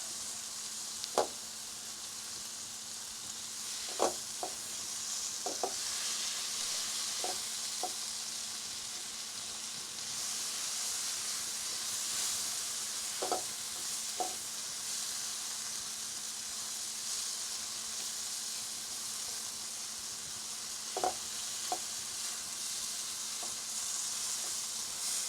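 Tomatoes frying in a pan for vegetable korma, a steady bright sizzle and hiss that lasts throughout, broken by occasional sharp clicks and taps from stirring, with no talking.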